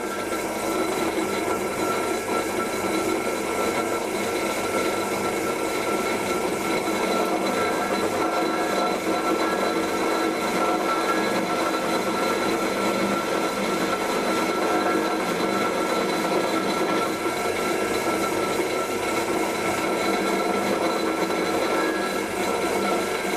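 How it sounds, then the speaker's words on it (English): A Meddings pillar drill runs steadily in a home workshop, giving a continuous mechanical whir and hum with a faint high whine, even in level and uninterrupted. "So we use this Meddings drill"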